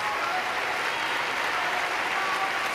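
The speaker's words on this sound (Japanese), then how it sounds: "さあ大きな拍手" Crowd applause fills a table tennis arena at Grand Front Osaka during a T.League match, a dense, sustained clapping that holds steady and fairly loud for the whole stretch, with no clear talk above it.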